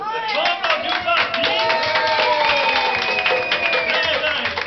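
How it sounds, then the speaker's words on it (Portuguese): An audience claps amid cheering and chattering voices, loud and steady throughout. Shouts and whistles rise above the crowd noise. "Vamos aplaudir o"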